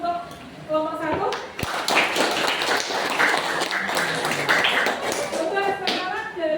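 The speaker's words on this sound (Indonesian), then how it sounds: "kita beri tepuk tangan untuk kelompok 1" A classroom of students claps for a group presentation, a burst of close, fairly loud clapping with voices talking and calling out over it, tapering off toward the end.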